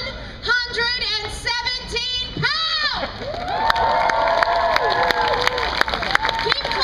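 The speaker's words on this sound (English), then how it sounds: "Keep clapping" Crowd at an NYC Pride 2011 rally cheering and shouting loudly, with whoops and high voices rising into sustained applause and cheers, dense and continuous close by.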